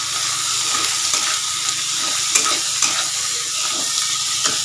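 Onions and green peas frying in a pan while being stirred, a steady broadband sizzle with occasional scraping clicks from the spoon, close and fairly loud with no voices.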